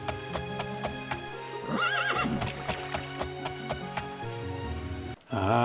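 A horse in the video game Daggerfall Unity gives a single loud, wavering whinny midway, set against steady game ambience and regular rhythmic clopping.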